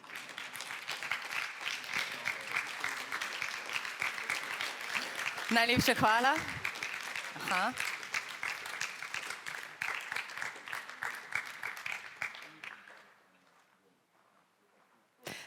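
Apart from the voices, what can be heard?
audience applause at award ceremony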